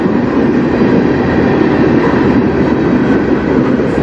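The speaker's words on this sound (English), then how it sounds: "That's a yard train. Those are yard locomotives." A CN yard train with yard locomotives creeps slowly along the Strathroy Sub near Sarnia, Ontario, a loud steady rumble of wheels and engines close by, unbroken throughout.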